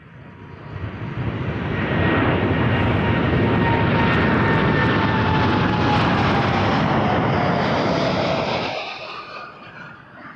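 Airliner taking off at Toronto Pearson Airport, engine roar building from a distance to a loud sustained rush with a rising whine, then dropping away sharply near the end.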